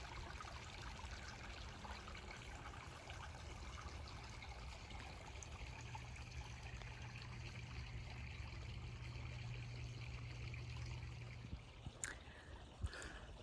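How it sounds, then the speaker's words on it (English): A small stream of water flows through the desert, a soft, steady trickle heard from close by against a faint, even background, with a brief knock near the end. "there's just this beautiful stream"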